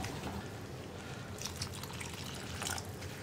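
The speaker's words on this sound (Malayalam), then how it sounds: "ഞാൻ ഇതിലേക്ക് കുറച്ച് ചൂടുവെള്ളം ചേർക്കാൻ പോവാണ്." Hot water is poured into a simmering green peas curry in a pan, a soft, steady trickle and splash heard close and alone for a few seconds.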